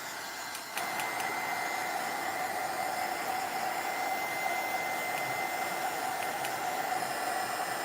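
Hot-air dryer blowing on paint splatters on a gothic box craft project, switching on abruptly and then running as a loud, steady whooshing roar to the end.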